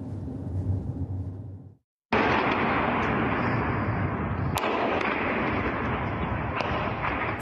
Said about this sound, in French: des explosions et des éclairs déchirent le ciel de Donetsk